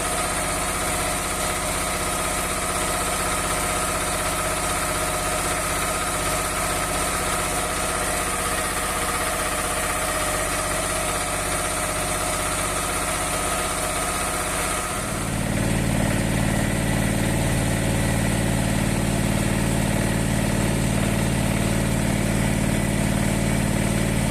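A mini excavator's diesel engine idles steadily throughout, its low rumble growing deeper and fuller about two-thirds of the way in, with no voices.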